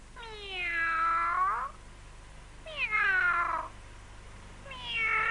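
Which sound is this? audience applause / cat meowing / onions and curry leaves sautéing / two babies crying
cat meowing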